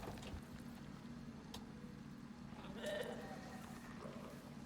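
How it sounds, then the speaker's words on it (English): Sheep bleating in the Icarus video game, one short faint wavering bleat partway through over a low steady background hum. "Let's check the sheep."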